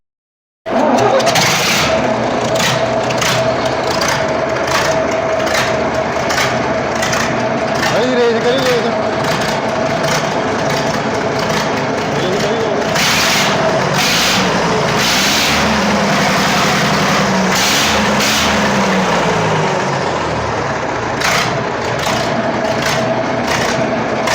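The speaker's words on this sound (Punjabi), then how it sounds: "ਜਿਵੇਂ ਹੁਣ ਆਪਾਂ ਇੰਜਨ ਸਟਾਰਟ ਕਰਿਆ ਸੀਗਾ ਆਵਾਜ਼ ਵੀ ਬਹੁਤ ਵਧੀਆ ਬਣੀ ਆ" Diesel engine of a tractor or combine harvester starts up and settles into a loud, steady running rumble close by, with repeated clanks and knocks over it and people talking throughout.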